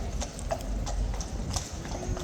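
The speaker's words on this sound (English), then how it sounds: "where's the other horse? Okay, here comes the other one." Horse hooves clip-clop steadily at a royal guard post as mounted guards ride in, irregular hoof strikes over a constant background murmur of outdoor crowd noise.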